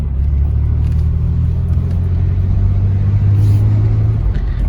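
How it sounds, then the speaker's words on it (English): Nissan 300Z engine running steadily with a low rumble, its tone rising slightly near the end as gas is added while the clutch is let out; loud and close, no talking. "Add gas as you pull the clutch."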